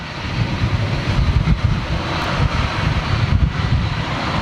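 Airbus A319 jets with Rolls-Royce engines at Manchester Airport, a continuous low rumbling engine roar mixed with wind buffeting the microphone, fairly loud and steady throughout.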